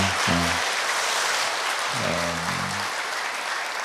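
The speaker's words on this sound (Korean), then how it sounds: "우리 격려 박수 너무 수고 많으셨습니다." A church congregation claps steadily for the choir, dense and continuous applause with a couple of short spoken or musical tones breaking through.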